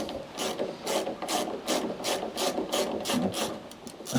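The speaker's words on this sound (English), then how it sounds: "I'm going to remove the carburetor again off this machine. Because that fuel tap's turned off and that's still leaking out of here. So let's loosey-goosey these off." A ratchet wrench loosens the carburetor bolts on a Hayter 56 lawnmower, giving a steady run of close, evenly spaced ratcheting clicks with light metallic rubbing.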